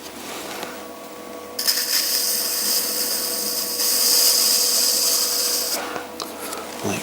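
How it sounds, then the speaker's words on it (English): Trimming tool shaving excess clay from the base of an enclosed form spinning on a pottery wheel, a steady loud scraping hiss that holds for several seconds before stopping, with faint background hum. "I'm just going to trim a bit of this excess off at the base"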